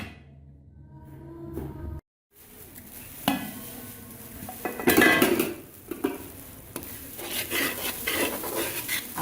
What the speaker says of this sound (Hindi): अब मैं इसके ऊपर ढकना लगाने लगी।